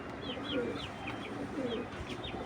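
Racing pigeons in a loft give low repeated coos while other birds chirp in short rising calls nearby, a steady, moderate chorus with no talk.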